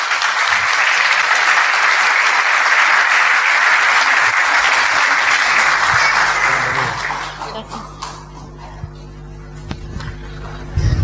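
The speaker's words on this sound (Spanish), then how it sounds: "Aquí, un aplauso para la hermana." A congregation gives a round of applause for a sister at a church apologetics session, dense steady clapping that tapers off near the end as a voice and room noise take over.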